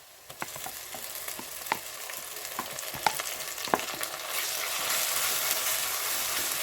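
A ginger, garlic, pepper and cumin paste sautés with onions in a pan for crab curry, a close crackling sizzle with scattered clicks of stirring that swells into a louder, steady hiss.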